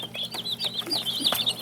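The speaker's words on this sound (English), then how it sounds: "meat chickens" Thirty young meat chicks in an off-grid brooder peep continuously, a busy, chirping chorus of high calls close by with no talk over them.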